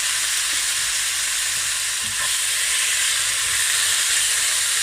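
Bulgogi frying in a pan gives a steady, loud sizzle with a bright hiss that holds evenly throughout, with no voices over it.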